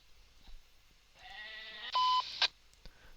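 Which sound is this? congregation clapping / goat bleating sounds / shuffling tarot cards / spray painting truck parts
goat bleating sounds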